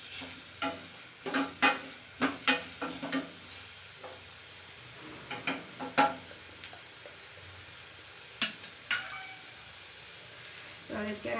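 Onions frying lightly in a pan for a North Karnataka dish, a soft steady sizzle broken by repeated scraping and stirring clatters of a spatula against the pan, close up with no talking.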